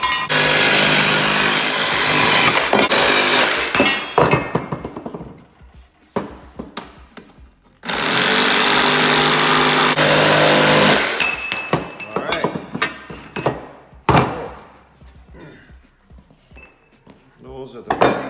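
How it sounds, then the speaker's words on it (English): A power tool cuts the flanges off a Subaru exhaust Y manifold for a homemade VW bus exhaust: two long, loud, harsh grinding bursts, each followed by scattered clanks and handling noises of metal parts. "I'm going to pull that Y manifold off and I'm going to chop off these two flanges here."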